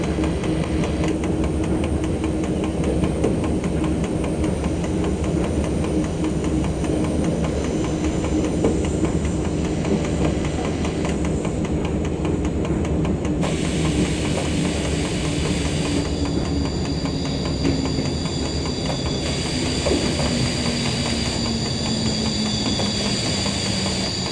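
A train climbing a steep grade on the Grenoble to Veynes Alps line in France, heard from on board: a loud, steady rumble and wheel noise with faint rail clatter, continuous throughout and without talk.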